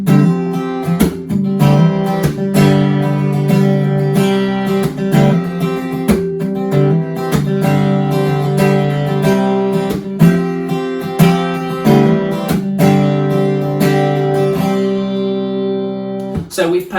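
An acoustic guitar strums a worship-style progression of four chords in the C position, ringing steadily and close with repeated strums and no voices.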